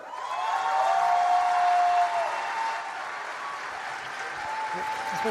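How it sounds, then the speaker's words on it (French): A studio audience on a televised singing competition gives a sustained round of applause and cheering for two singers, a dense continuous wash of clapping that swells and then eases slightly, with faint talk underneath. "faites un tonnerre d'applaudissements"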